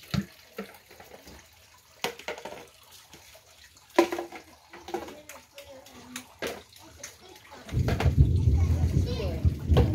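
Heavy rainwater pours into storage barrels, a loud rushing gush that starts near the end after scattered knocks and people talking, with voices continuing over the flow.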